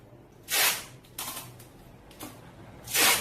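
Adhesive tape is pulled and pressed down while laying out a wig pattern: three or four short, crisp ripping strips close to the mic, separated by quiet gaps.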